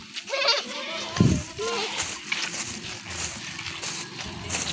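Goats bleating at a resort with a swimming pool, a few nasal bleats rising over background chatter and splashing, with voices talking throughout.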